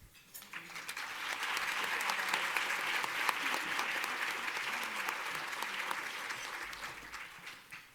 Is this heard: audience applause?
yes